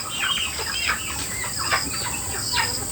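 A flock of backyard chickens clucks and chirps steadily at close range, a busy overlapping chatter running throughout over a constant high background hum.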